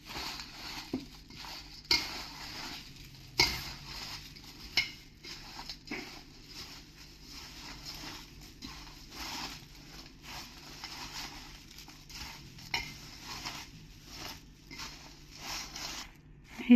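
Raw puffed-rice chivda is tossed with oil in a pot using a ladle, making faint, irregular scraping, rustling and light clinking strokes at a quiet level.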